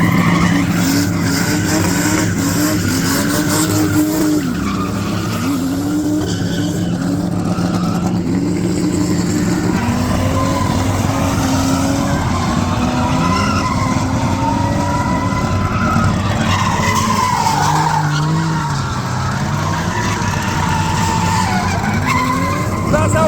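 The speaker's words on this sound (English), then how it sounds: "It's a real NASCAR, and it's an expensive car, and we're drifting around it." Real NASCAR race car drifting, tires skidding and squealing continuously under a roaring, revving engine, loud and close for over twenty seconds with people talking at times.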